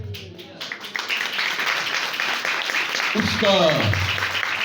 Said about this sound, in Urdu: یہ تالیاں اتنی نہیں ہونی چاہیے تھی